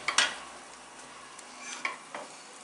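Walnuts and hazelnuts being stirred into a thick batch of double-cooked Turkish lokum in a pot, a few soft scrapes and clinks spread across a quiet background.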